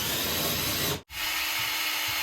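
A power tool bores out a hole in a metal bracket for mounting an alternator on a bike generator, giving a loud, steady grinding whir that cuts out briefly partway through, then resumes.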